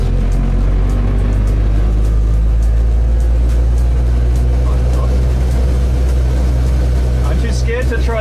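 A Barkas B1000 van engine drives along and shifts gears, making a loud, close, low droning rumble that runs steadily through the whole stretch, with rattling and a brief burst of voices near the end.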